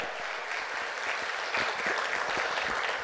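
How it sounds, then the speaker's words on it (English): An audience at a seminar on anti-money-laundering breach risks gives a speaker, Mr. Nishant Nutta, a round of applause: steady, moderately loud clapping with a few sharper individual claps standing out near the end. "Can I have a round of applause for Mr."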